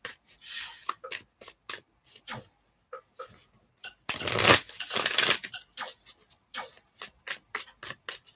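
Tarot or oracle cards being shuffled for a channeled reading, a quick run of crisp riffling flicks with a louder, denser riffle burst in the middle, close and alone.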